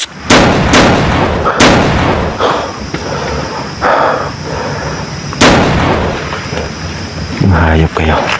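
Gunfire in a video game: several loud, sharp shots and booms separated by pauses, with background game noise and a brief voice near the end.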